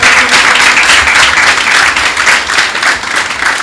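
Studio audience applauding to welcome a woman guest onto a French-language television talk show, steady dense clapping sustained at even loudness throughout with no voices over it.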